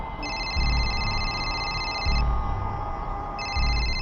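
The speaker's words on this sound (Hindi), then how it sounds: "भाभी जी का फोन है," A telephone rings in repeated double bursts, a bright electronic trill with pauses between, over low background noise.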